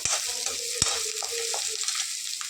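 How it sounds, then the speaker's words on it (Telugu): Onions fry in a pan for egg curry with a continuous close sizzle, punctuated by a couple of sharp knocks and repeated scraping strokes from a spoon stirring. "ఆనియన్స్ అయితే వేగిపోయాయి బాగా"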